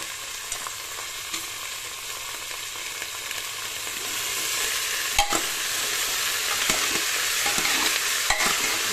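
Cauliflower and mixed vegetables fry in a pan, giving a dense, continuous sizzle that swells slightly midway, with a few clinks of stirring, close and alone.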